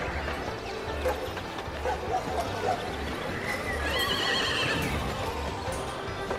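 Horses in a Planet Coaster theme park whinny at a stable-like station, with clip-clopping hooves, soft thuds and a brief high neigh, all over a busy park ambience.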